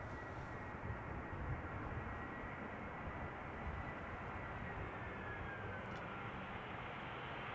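A Boeing 737-800 arriving from Tel Aviv lands at Schiphol Airport, heard as a steady, distant broadband engine roar that holds level throughout, with no talking.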